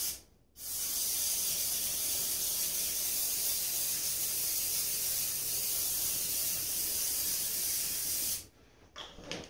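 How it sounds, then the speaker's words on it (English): Coconut oil cooking spray hisses in one long, steady burst for about eight seconds while greasing a mini muffin tin, with short clicks and rustles as it stops. "I'm going to just grease it really fast with my coconut oil spray."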